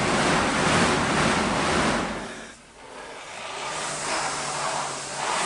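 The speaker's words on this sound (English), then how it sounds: "you probably can't hear me very well over the fan" Fan of a Rogue Echo exercise bike whirring loudly, a broad rushing whoosh that surges and dips with each push, briefly fading before spinning back up, close to the microphone.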